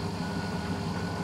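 A Blomberg washing machine running its first rinse makes a steady low hum with faint sloshing, constant and close for a brief moment.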